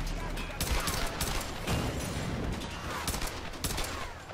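Sustained bursts of video game gunfire in Tomb Raider, shooting at enemies on ziplines, with rapid overlapping shots and impacts continuing loudly throughout.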